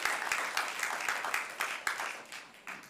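Audience applause at a Chula Vista city council meeting, a steady wash of many hands clapping in a large room for about three seconds, with scattered louder claps standing out.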